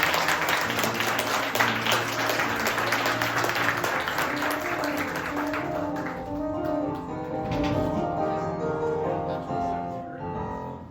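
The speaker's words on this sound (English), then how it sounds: "Another round of applause for Enrico." A crowd claps steadily for Enrico in dense, sustained applause, with voices and a held musical tone underneath before the clapping thins out toward the end.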